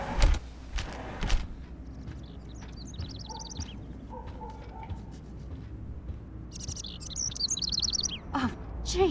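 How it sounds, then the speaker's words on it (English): Short bursts of high, rapid bird chirping sound indoors in a Life Is Strange game scene, two distinct twittering spells at moderate volume over a quiet room hum, with a brief thump at the start. "Can you help me get this bird out of here?"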